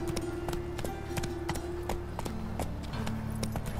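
Roach, a horse in The Witcher video game, gallops with steady repeated hoof clip-clops over a low music drone, fairly close and continuous.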